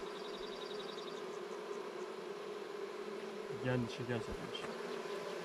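Bees buzz in a steady, continuous drone around a village beehive, with someone speaking briefly nearby.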